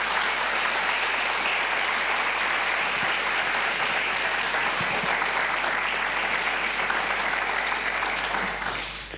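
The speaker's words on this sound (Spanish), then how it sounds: "¿Quiere darle una ofrenda de aplauso a la palabra de Dios?" A church congregation claps loudly and continuously, a dense wash of many hands that holds steady before tapering slightly at the very end.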